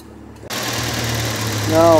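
Small 2.0-liter car engine in a garage, starting abruptly after a short quiet moment and then running with a steady low hum that swells slightly toward the end, while a voice is briefly heard.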